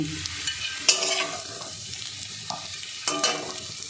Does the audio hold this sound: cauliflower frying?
yes